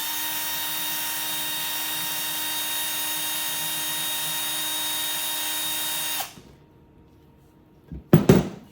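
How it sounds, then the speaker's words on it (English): Grinding wheel running steadily against a MIG welder contact tip, a loud constant whine for about six seconds that cuts off abruptly, followed by quiet and then a couple of sharp knocks. "use this grinding wheel, and just grind down that tip a little bit"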